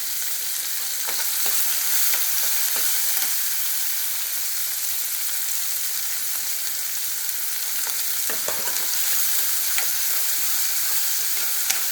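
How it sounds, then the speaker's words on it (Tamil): Chopped onions with one dried red chilli and three green chillies sautéing in a pan, a steady close sizzle and hiss with a few soft stirring scrapes scattered throughout, no talking. "நல்லா வதக்கிடணும் வெங்காயம்"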